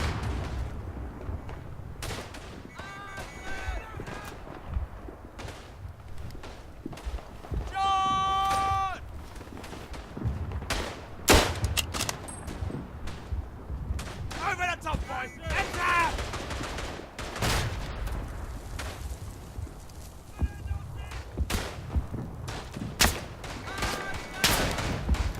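Bursts of gunfire and distant artillery booms in the First World War shooter Verdun, scattered irregular reports at varying distances over a continuous battlefield rumble.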